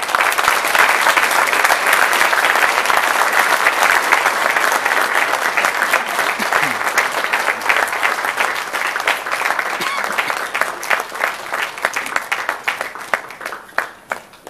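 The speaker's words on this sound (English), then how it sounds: "I would like you to applaud them thankfully." A hall full of people at a university Muslim Students Association gathering breaks into loud, sustained applause. Dense clapping holds steady for most of the stretch, then thins into scattered claps as it fades.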